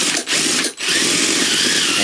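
A power drill fitted with a fixture winds the tuning peg of a dulcimer, a loud close whirring rattle with two brief dips where the drill pauses, then continuous.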